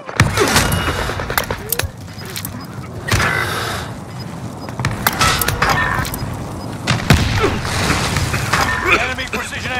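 Rapid gunfire rattles in a zombie shooter video game, with bursts and single shots scattered throughout amid explosions and shattering, while voices talk over the action.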